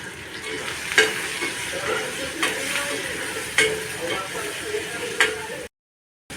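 Turmeric dropped into hot oil for a dal with ridge gourd, a steady close sizzle and frying hiss broken by a few scraping stirs of a spoon against the pan, then a brief silence at the end.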